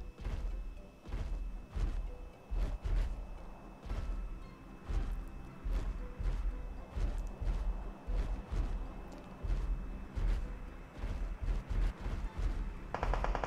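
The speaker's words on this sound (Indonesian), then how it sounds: "Ada yang nembak, guys." Rapid gunfire in the video game PUBG, with many sharp shots and thuds cracking out in irregular bursts over a dense, busy game background for the whole stretch, with no voices.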